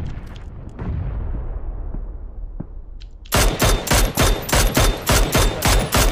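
Gunfire in PUBG: a few scattered distant shots over low ambient rumble, then a loud, close automatic burst of about a dozen evenly spaced cracks in quick succession, with no talking.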